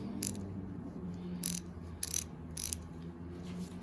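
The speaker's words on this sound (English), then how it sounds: "Now that I got my ratchet wrench all put together, I'm going to give it a try." A repaired Craftsman ratchet wrench clicks in several short, bright bursts of rapid pawl ticking over a steady low background hum, close and moderately loud.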